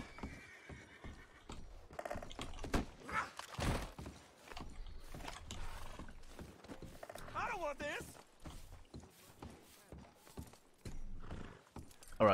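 Hooves clip-clop steadily while a horse whinnies partway through in a video game, with a person talking over the top.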